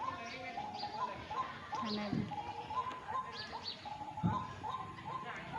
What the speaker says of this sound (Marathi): काहीतरी बोंबलत आहे, कोणता पक्षी आहे तर माहित नाही